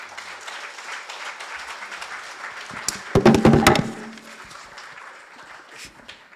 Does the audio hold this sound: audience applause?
yes